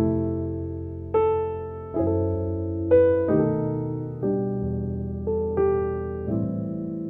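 Solo piano plays rich gospel jazz chords over Silent Night, with chromatic chords from outside the scale. About seven sustained chords are struck one after another, each ringing out and fading, with no voices.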